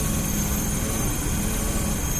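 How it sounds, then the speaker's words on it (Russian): A petrol-engined Sumitomo FG15 1.5-ton Japanese forklift with 12,400 engine hours runs at idle, giving a steady, even hum and rumble that holds unchanged throughout with no voices. "сам двигатель, послушайте, как работает"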